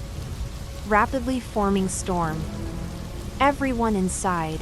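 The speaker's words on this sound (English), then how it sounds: "The audio becomes a chaos of wind, rain, and the sound of the boat being whipped by the waves." Steady rain hiss from a sudden violent storm at sea, continuous and fairly close, with a voice speaking over it in short bursts throughout.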